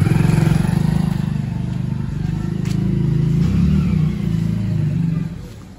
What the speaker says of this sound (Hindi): देखिए यही बाइक है जिससे कि हम डिलीवरी करते हैं